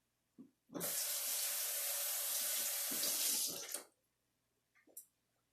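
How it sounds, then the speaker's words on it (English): A kitchen tap runs steadily for about three seconds while hands are washed beneath it, the stream clear and close, with brief clicks and splashes before and after. "I'm going to wash my hands now"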